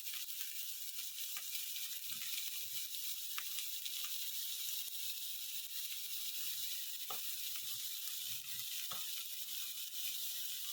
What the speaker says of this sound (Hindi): अभी इसमें जो ऑनियन कट करके रखा है वो डाल दीजिए।